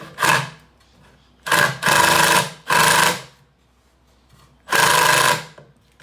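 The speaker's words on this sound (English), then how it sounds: "as you screw into the side of your box, you just want to be sure you're not screwing through the outside of it" A power drill drives screws into a wooden planter box in four separate bursts of loud whirring, each a second or less, with short quiet gaps between them.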